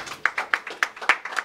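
Sparse applause from a concert audience, a handful of distinct claps in an uneven rhythm, fairly close and moderately loud, with no voices over it.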